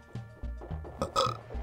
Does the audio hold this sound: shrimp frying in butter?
no